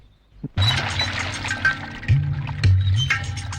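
Water scooped and poured from a village well, a splashing pour that starts abruptly, then surges and splashes again in uneven bursts, close and fairly loud.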